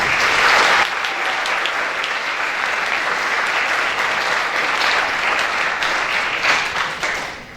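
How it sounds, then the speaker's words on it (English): Audience round of applause at a program event, a full sustained burst of many hands clapping for several seconds before tapering off at the end. "let's give them all a round of applause"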